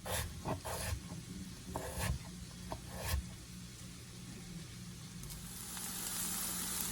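Ground turkey sizzles steadily in a hot pan for a burrito filling, with a few scraping stirs of a utensil early on, then settling into an even frying hiss.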